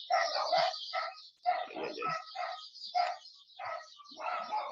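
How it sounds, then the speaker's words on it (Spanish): Several dogs bark excitedly in a yard in rapid overlapping bursts, moderately distant and continuous, with no talking over them. "se volvieron locos mis perros"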